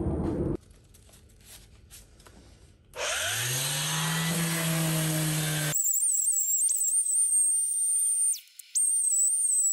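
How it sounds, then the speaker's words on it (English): A power sander works over wooden speaker parts, likely walnut, on a workbench: a faint rubbing opens, then the tool spins up with a rising whine into a loud steady grind, shifts to a high thin whir, briefly drops and resumes. "I'm gonna go ahead and finish sanding all my parts"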